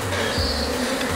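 Honeybees buzz at an open backyard beehive with the frames exposed, a close, dense, continuous drone with slight shifts in pitch throughout and no voices.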